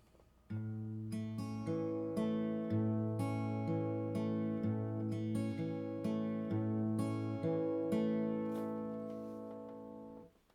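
Acoustic guitar fingerpicks a steady pattern on an open chord, the pattern from a song, with clear, close, ringing notes repeating evenly for about ten seconds before the sound fades.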